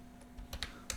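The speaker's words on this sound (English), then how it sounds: "So here again, you type the extension" Someone types on a computer keyboard, producing a handful of quiet, crisp key clicks in quick irregular succession over about a second, with no talk.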